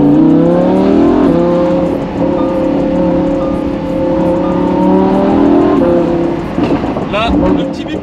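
A red chrome Lamborghini accelerates hard and close up, its engine revving loudly through rising gear pulls with a brief shift near the end, while a person talks over the engine.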